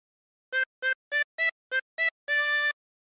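Harmonica plays the first phrase of Yankee Doodle, seven clean reedy notes: six short, evenly spaced ones and a final held tone, close and solo in silence.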